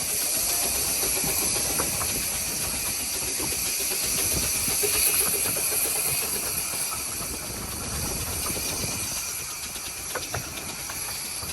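A works train runs on the Ravenglass and Eskdale heritage railway, a steady steamy hiss with low mechanical rumble and occasional clanks, holding at a constant level throughout.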